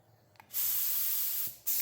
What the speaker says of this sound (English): we are just trying to get some epoxy on the bare metal areas. So we're using a mini jet in this instance